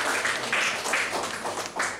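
Applause from a church congregation during a sermon, a steady wash of many hands clapping at moderate distance, swelling and easing in short waves.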